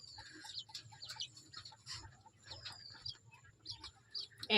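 Guinea fowl, called Chinese hens, kept in a backyard give faint, scattered chirping calls, a few sharp squeaky notes over a low background hum.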